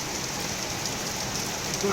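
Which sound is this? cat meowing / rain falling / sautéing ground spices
rain falling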